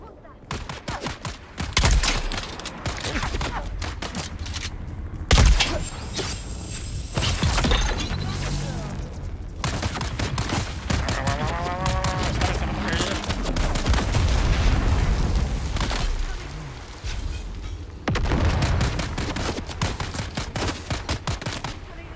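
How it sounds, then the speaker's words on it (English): Rapid gunfire bursts in the video game Dune: Awakening, loud and dense with sharp impacts and shattering crashes, running almost continuously through a frantic fight with brief lulls. "gunfire's a little bit loud"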